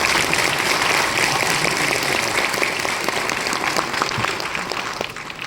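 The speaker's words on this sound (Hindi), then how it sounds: "ताली बजाइए एक बार।" An audience at the Uttarakhand state silver jubilee event breaks into sustained, dense applause, loud at first and then tapering off toward the end, with a faint voice in the background.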